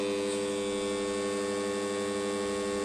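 A lab bench power supply just switched on during final testing gives off a steady, even electrical hum with a buzzy edge, constant and close, with no voice over it.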